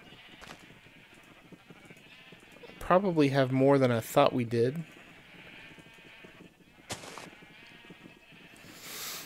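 Sheep on a Minecraft survival farm bleat in a short burst of wavering cries near the middle, over a quiet game background, while someone talks softly about the flock.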